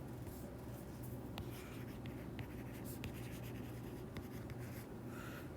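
A pen scratches steadily across paper during a physics lecture, a quiet, continuous writing sound with no talking.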